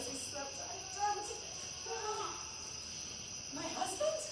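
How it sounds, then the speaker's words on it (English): Crickets chirping as a stage sound effect in a theatre production of Macbeth, a steady high chirring bed beneath faint voices speaking quietly. "I heard the owl scream and the crickets cry"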